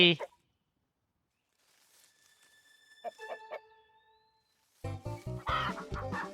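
Cartoon chickens cluck in a short burst of high, tonal clucks during the chicken-catching scene of the Lost in Play video game, with quiet gaps around them, before loud rustling and scuffling noises take over.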